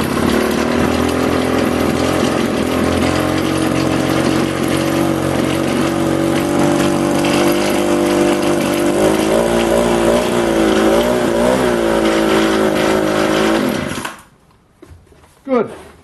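A junkyard McCulloch leaf blower's two-stroke engine runs loudly and steadily at close range with uneven, odd noises, then cuts off abruptly near the end, leaving brief quiet sputters.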